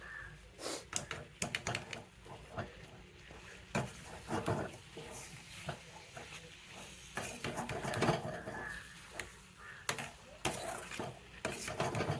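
Samosa filling being mixed in a bowl by hand with a spoon, heard as a quiet run of repeated scraping, clinking and tapping strokes at an uneven rhythm, close by and with no speech.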